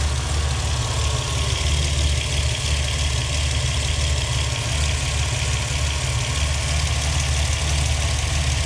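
Rebuilt 1960s Ferrari V12, from a 330 GT 2+2 or 365 GT 2+2, idling steadily during carburettor tuning, a loud continuous low rumble with an even burble close by and no talking.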